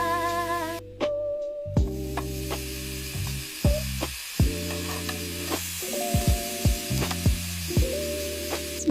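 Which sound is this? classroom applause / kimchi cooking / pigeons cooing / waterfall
kimchi cooking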